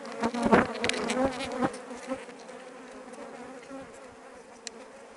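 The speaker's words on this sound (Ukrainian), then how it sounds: "Тут вже бджола виходить." Dense, steady buzzing of many honey bees swarming close by at an apiary hive, louder with passing bees in the first seconds, then a continuous hum.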